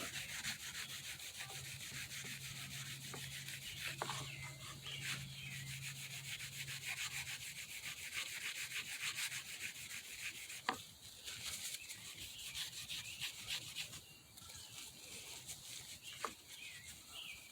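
An old knife is buffed and polished, giving a continuous soft rubbing, sanding-like hiss with small scrapes and clicks throughout, with faint birds in the background.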